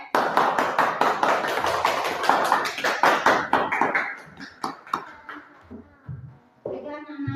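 Children in a classroom clapping together, a fast, loud run of applause that thins into scattered claps and then gives way to a voice.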